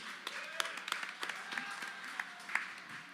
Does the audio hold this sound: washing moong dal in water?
no